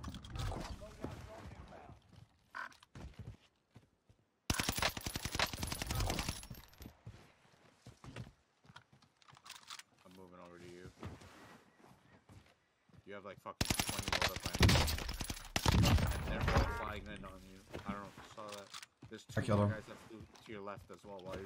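Bursts of rapid automatic gunfire from an H4 Blixen in Warzone come in loud clusters between stretches of talking players, with quieter gaps and game noise in between.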